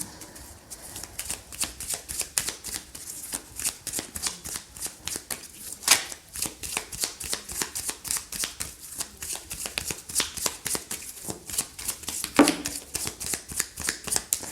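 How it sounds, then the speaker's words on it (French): Oracle cards shuffled for a reading, a steady run of quick papery riffles and flicks that repeat for the whole stretch, close and fairly loud, with no talking. "je vais tirer 6 cartes ici pour y répondre"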